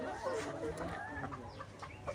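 Layer hens clucking in short, overlapping calls, close by in a poultry farm, with a steady background murmur and some faint voices underneath.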